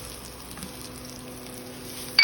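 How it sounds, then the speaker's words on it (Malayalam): Sliced bitter gourd frying in a pan Bengali-style and being stirred, giving a faint, steady sizzle with a brief scrape near the end, close but quiet, with no voices. "നന്നായിട്ടൊന്ന് ഇളക്കി കൊടുക്കാം"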